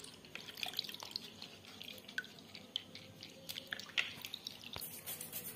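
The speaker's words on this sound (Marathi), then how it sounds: "भरीत खेकडा करायसाठी अशा प्रकारे एक एक खेकडं धुवून काढायची." Crabs being washed one by one for a Maharashtrian crab dish: water drips, splashes and trickles close up, with small squishy handling noises and scattered droplets falling throughout.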